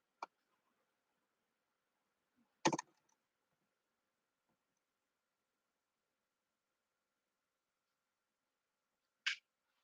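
Sparse key presses on a computer keyboard while entering a verification code, three isolated sharp clicks separated by long silences.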